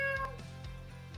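A cat meows as a sound effect in a radio ad for an appliance store, with a few short, fairly soft meows in quick succession over a low hum.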